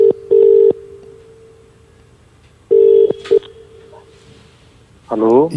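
Telephone keypad tones sound as a call is dialed: two clear bursts of steady electronic beeps separated by quiet, followed by a short voice at the end.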